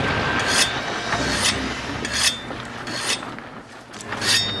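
Rasping, scraping strokes of a weapon being sharpened in a video game, repeating about every second or so in short bright bursts over a low murmur of background game sound.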